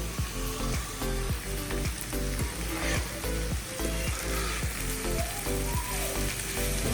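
Vegetables sizzle hard in a pan over a high flame, with a steady dense hiss and a regular series of stirring scrapes and clacks running throughout, close and loud.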